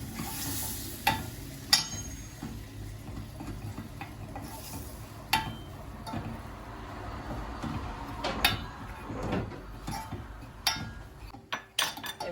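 Flour roasts in melted butter in a pan, giving a soft, continuous low sizzle broken by occasional light clinks and scrapes of a utensil against the pan.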